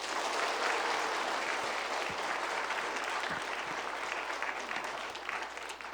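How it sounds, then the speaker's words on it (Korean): A church congregation at a revival meeting applauds a guest speaker with sustained, dense clapping heard at a distance, even and unbroken throughout. "우리 강사님 박수 한번 세게"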